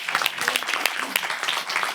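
Audience applause at a live business-conference main-stage event, dense broadband clapping from a crowd sustained for about two seconds at moderate level, with some voices faintly mixed in.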